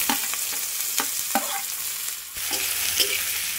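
Chopped onions with bay leaf in hot oil sizzle steadily in a pan, with a near, continuous hiss broken by scraping stirs of a spoon.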